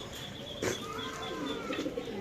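Pigeons coo softly and steadily at a busy pigeon market in Dhaka, low rolling calls with a faint chirp and a brief wing flutter, heard against a constant crowd hum.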